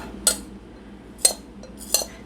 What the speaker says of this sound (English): use a spoon to get the rest of this out.